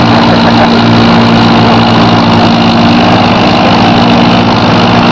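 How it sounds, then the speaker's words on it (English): John Deere 4000 tractor at a country tractor pull, its engine running loud and steady with a low droning hum and broad mechanical roar, close and continuous throughout. "Some more tractor pull, everybody."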